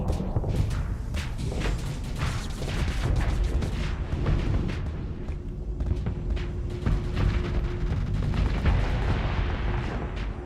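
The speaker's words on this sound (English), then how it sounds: "Because we got fried by the explosion this one again" A ship explodes in the space combat game Starsector, a continuous barrage of booming, crackling blasts and impacts rolling on at steady loudness with a faint tonal hum underneath.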